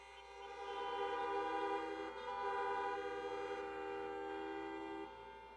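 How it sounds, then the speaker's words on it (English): Car horns blare together at an outdoor campaign rally in Phoenix, Arizona, a loud sustained chorus of overlapping honks lasting several seconds with a brief dip midway and no talk over it. "Honk if you know anybody with diabetes."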